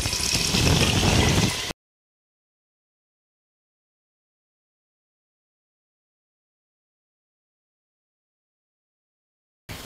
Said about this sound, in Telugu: ఇప్పుడు ఇందులో నీళ్ళు వేసుకుందాం.